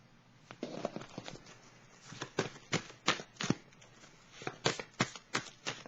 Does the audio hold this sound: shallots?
no